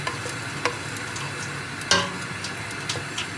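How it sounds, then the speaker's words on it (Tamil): Asafoetida powder sautéed in a pan for rasam: a soft sizzle broken by several scraping stirs of a spoon against the pan, one louder clatter near the middle, nearby and without talk. "கொஞ்சம் வதக்குறோம்."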